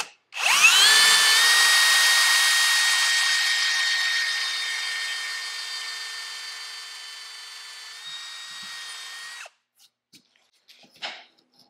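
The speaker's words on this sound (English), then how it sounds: "Because this is hardwood and we need a screw to hold our template in place, we're going to drill a pilot hole." A power drill bores a pilot hole into hardwood for a template screw. It gives one close, loud, steady whine for about nine seconds as the motor slowly drops in pitch, then stops abruptly, followed by a few faint handling clicks.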